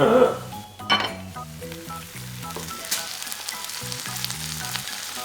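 Ginger paste sizzles in a pan while an Afghani egg dish is cooked, with a spoon clinking and scraping at the start, steady close frying throughout and no talk.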